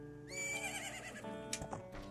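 Epona the horse in Zelda: Majora's Mask gives a single clear whinny, rising and then falling and wavering. Hoof clip-clops and game ambience sit quietly beneath it.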